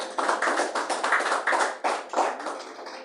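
A church congregation claps together in a steady, dense burst of hand claps, loud and close, with a brief dip near the end before the clapping picks back up; no voices stand out over it.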